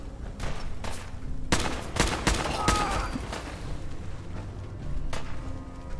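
Turret gunfire in Fallout 4 comes as a quick burst of sharp, close shots, followed by scattered cracks and a few impacts.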